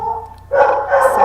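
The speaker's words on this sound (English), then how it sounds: "Sound effects of my dog protecting me." A dog barks protectively at close range, a short loud burst of bow-wow barks following a quieter growling lead-in.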